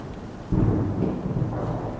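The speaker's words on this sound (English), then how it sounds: "But there is a storm on the horizon, isn't there?" Thunder breaks suddenly halfway through and rolls on as a deep rumble, with rain under it, in a thunderstorm soundscape.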